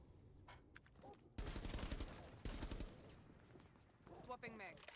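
Gunfire rattles through a Rainbow Six Siege esports playoff match, with rapid bursts of shots at moderate distance under an announcer's running commentary.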